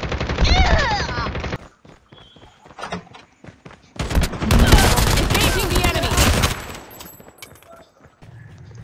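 Bursts of automatic gunfire in Call of Duty Mobile, rapid fusillades mixed with game effects in two loud stretches, with voices talking over parts of the action.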